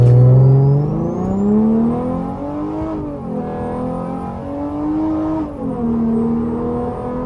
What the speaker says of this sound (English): First time launching the car.